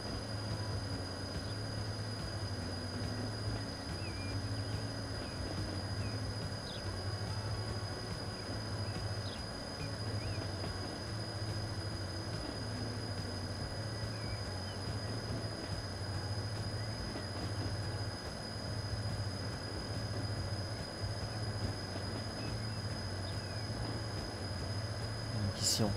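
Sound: grain trains running in Transport Fever 2 video game

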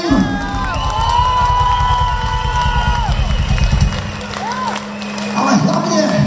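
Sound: crowd applauding and cheering for a band at a concert

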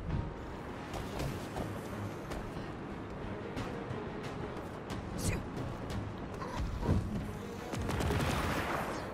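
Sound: turret firing in the Marvel's Avengers video game

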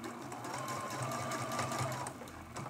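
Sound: sewing machine quilting around a mug rug cameo

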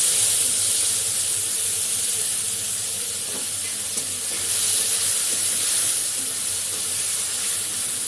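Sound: chopped tomato sizzling in hot oil in a pan

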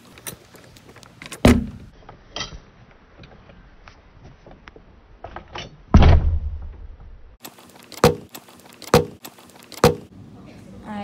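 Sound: house door being tried and opened

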